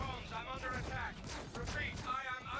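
Ship cannons fire from a Drake Buccaneer in Star Citizen, a run of repeated energy-weapon shots that keeps going over a busy, steady background with a few louder bursts.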